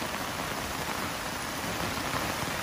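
Steady rain pours down outdoors in a broad, even hiss that stays constant and fairly loud throughout, with no voices.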